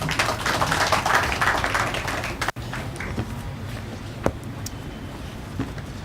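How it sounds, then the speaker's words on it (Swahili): An audience at a Stima Sacco launch event in Mombasa claps to welcome the company's CEO, a dense, steady burst of applause for about two and a half seconds, then a quieter room with a few scattered taps. "Tumpigie makofi akija."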